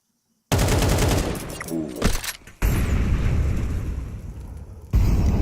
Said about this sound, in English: Meaty connections with those HEs.